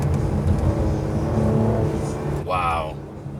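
A 2017 Mercedes-AMG C43 engine roars steadily up close, then rises in a sharp rev near the end, with a voice briefly talking over it.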